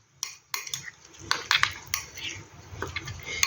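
Chopped spring onions go into a pot for a vegan lunch, bringing a run of sharp clinks and clatters of a utensil against metal cookware in scattered bursts, close and fairly loud over a low background rumble.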